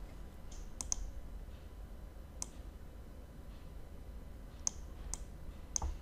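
Sharp, quiet computer mouse clicks come at scattered intervals over a faint low hum during slide editing in software, with no talking.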